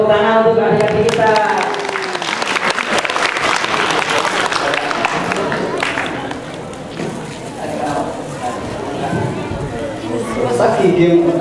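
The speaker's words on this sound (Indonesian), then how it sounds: "Ya, tepuk tangan untuk adik-adik kita" Audience clapping for young children performers at a community kids' event, a loud burst of applause mixed with crowd chatter and voices talking over it, fading slightly in the middle before swelling again.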